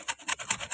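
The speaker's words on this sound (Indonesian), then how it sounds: "Kita bersihkan menggunakan gergaji ini" A hand saw cuts through a lady palm stem in quick back-and-forth strokes, four rasping pulses in under a second, close and crisp with no talking.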